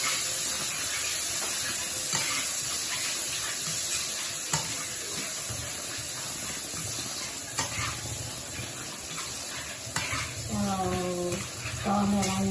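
Chopped shallots stir-fry in a pan for a mushroom dish, giving a steady, close sizzle with scraping stirs throughout and a brief voice near the end.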